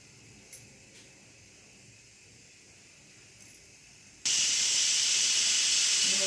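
Pressure cooker on a home kitchen stove, a loud steady steam hiss bursting on suddenly after a quiet stretch and continuing without break.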